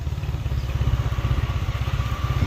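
A motorcycle engine thumps steadily up close in a fast, even low pulse, ridden to a large old cemetery, with no voices over it.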